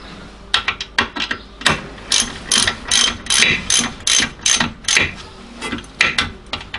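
Ratchet clicks in quick bursts while brake caliper bolts with a lock washer are tightened on a Hyundai Santa Fe during a wheel bearing replacement, loud and close with short pauses between runs.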